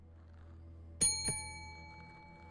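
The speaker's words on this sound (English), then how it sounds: "Who's ringing the bell?" Two sharp bell strikes ring out close together in the horror game The Devil in Me, each leaving a long, bright metallic decay over a quiet, low ambient hum.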